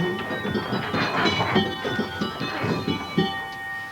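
Small, delicate handbells rung in a barn: bright overlapping metallic tones in a quick rhythmic pattern, fairly loud and close, with no voices.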